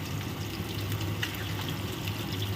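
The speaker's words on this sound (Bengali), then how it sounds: "ঠিক ওই বাটিটার মাপেই 1 বাটি জল দিয়ে দিলাম।" A bowl of water poured into a cooking pan on the stove, a steady splashing gush that fills the short moment without pause.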